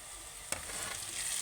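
Sliced okra sizzles steadily in a pan as a Telangana-style okra fry is stirred, with one sharp click near the middle and no talking.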